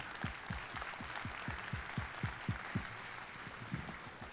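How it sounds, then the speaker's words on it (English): Faint applause at a school pops concert for the music parents association board, heard as a soft, fairly even patter of claps from a distance, with no one speaking. "Big round of applause."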